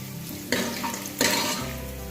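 Onions sizzle and fry to golden brown in a hot pan while being stirred, with two louder bursts of hissing as they're tossed, no voices.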